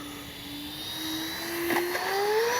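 An E-flite Airbus A320neo RC jet flies in to land, its electric ducted fan giving a steady whining hum whose pitch slowly rises, moderately loud and continuous outdoors.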